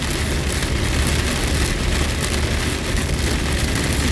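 Steady rain pours down in the Basque Country, a dense, even hiss of drops on surfaces that stays constant, with a low rumble beneath and no voices.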